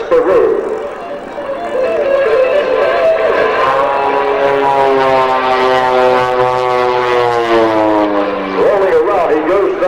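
An aerobatic propeller airplane spins down toward the center line over Valleyfield, Tasmania, at a 1998 Sky Race airshow, its engine droning and shifting pitch as it turns, heard from a distance under continuous announcer commentary.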